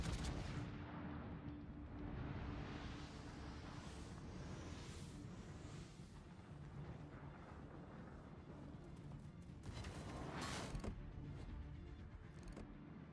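Heavy booms from warship guns in World of Warships, a steady roar of rumbling gunfire and mechanical clanks that swell again toward the end, dense and loud throughout.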